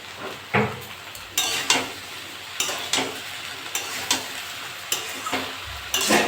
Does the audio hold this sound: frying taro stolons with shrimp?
yes